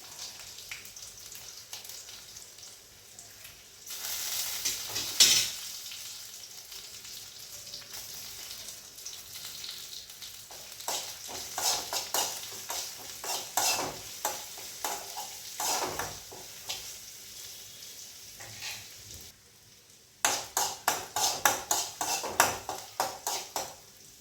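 Onions and curry leaves frying in hot oil for a Kerala pineapple curry, a steady close sizzle with stirring clatter of a spoon against the pan and a sharper burst of crackling near the end.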